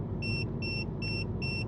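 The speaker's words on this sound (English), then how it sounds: "both visual and audible speed alarms are a feature that is supported with the G13 Head Up Display" Audible speed alarm from a compact G13 car head-up display: four short, evenly spaced high electronic beeps over steady low in-car road rumble.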